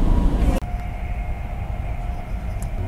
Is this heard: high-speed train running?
yes